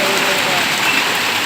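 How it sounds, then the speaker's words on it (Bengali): Hail and heavy rain pounding down during a hailstorm in Dhaka, a dense steady patter close by with a voice faintly present under it. "শিলা বৃষ্টি হচ্ছে ঢাকা এই মুহূর্তে"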